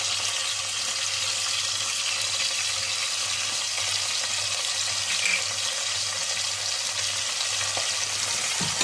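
Brinjal, mango and mutton curry frying in a pan, a steady loud sizzle with soft stirring scrapes running continuously.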